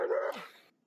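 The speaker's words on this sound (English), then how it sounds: "That dog has a demonic growl to it." A dog at a police use-of-force scene lets out a single harsh, close bark that trails off into a brief rough growl, lasting under a second.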